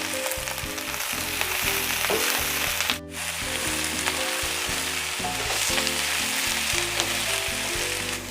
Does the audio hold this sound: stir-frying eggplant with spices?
yes